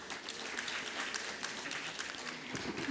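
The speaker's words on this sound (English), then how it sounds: "A big round of applause for Sri Gautam Upadhyay." Steady applause from a conference audience at a felicitation on stage, a dense continuous patter of many hands clapping at even volume throughout, with no talk over it.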